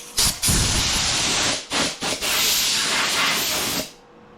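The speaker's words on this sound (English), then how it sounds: "compressed air and blow that off" Compressed air blasting off a Toyota Prius headlight during restoration, loud hissing bursts with short gaps between them before cutting off at the end.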